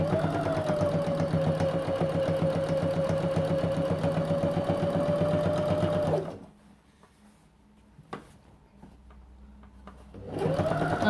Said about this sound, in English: So keep stitching it 1 centimeter seam allowance.